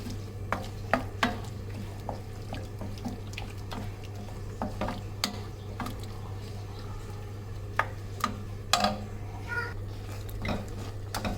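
Snake gourd kootu is stirred in a pot, with scattered scrapes and clicks of a spoon against metal over a faint steady hum and soft bubbling, fairly quiet throughout.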